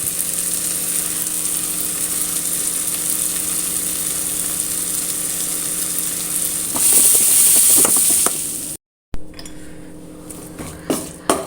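Spices with chili powder and asafoetida sauté in a pan, a close, steady sizzle that rises louder near the end, cuts out briefly, then returns as scattered stirring clatter.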